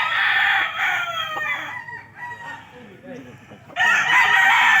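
Roosters and stags crow at a game farm, loud nearby crows opening and closing the stretch, with softer clucking and a voice speaking in between.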